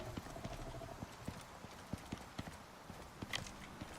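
Horse hooves clip-clop in the open-world video game Icarus, a quiet steady series of distinct hoof strikes on ground, heard alone without talk.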